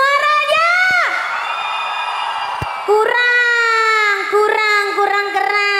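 A large crowd at an outdoor Indonesian dangdut concert in Tenggarong answers the host with sustained shrill shouting and cheering, loud throughout and swelling again in several bursts after a short dip.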